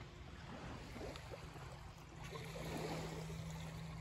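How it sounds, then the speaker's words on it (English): Small waves lapping at the shore of a lake beside a lake house, a soft steady wash of water with a constant low hum underneath, no talking. "Hear that water?"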